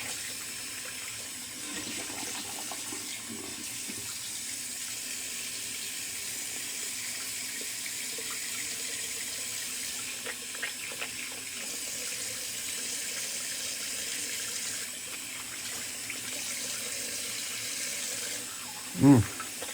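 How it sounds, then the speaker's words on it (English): Cold tap water running steadily into a bathroom sink for a post-shave rinse, a constant close splashing stream lasting throughout, with a brief louder knock near the end. "Rinse with a little cold water."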